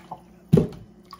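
Water pours briefly to soak sea moss, a short splashing burst near the middle of an otherwise quiet moment.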